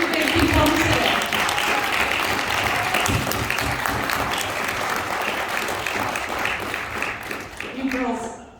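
Audience clapping steadily at the end of a bat mitzvah service, loud and sustained for most of the stretch with voices and cheers mixed in, then thinning out as a voice speaks near the end.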